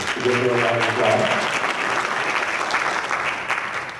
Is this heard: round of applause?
yes